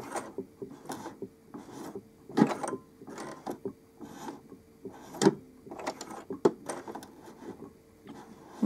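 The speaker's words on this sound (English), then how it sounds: "this is me manually moving the machine so that it isn't hitting the button with force and breaking the needle" A sewing machine fitted with a button-attaching foot is turned slowly by hand, giving irregular close mechanical clicks, rubbing and knocks at a moderate level, with no talking.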